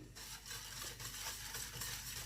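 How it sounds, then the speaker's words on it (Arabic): Cornstarch and milk are stirred together in a pot for a caramel pudding, a soft continuous scraping and swishing of a utensil against the pot, faint and steady with no voices. "دابا هادو غادي نحركهم مزيان"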